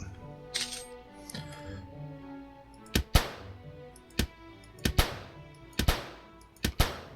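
Slot machine minigame in My Time at Portia: a string of sharp clacking thunks from the reels stopping, irregular and loud against a soft tinkling game-music bed.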